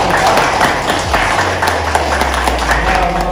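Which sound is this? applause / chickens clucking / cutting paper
applause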